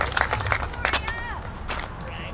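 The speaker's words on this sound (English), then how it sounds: "Let's get a big round of applause going for Eric McCabe" An audience claps at a disc golf world championship final round for a masters player, a scattered burst of handclaps that thins out within about a second, with a voice talking over it.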